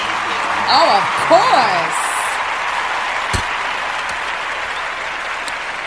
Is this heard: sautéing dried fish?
no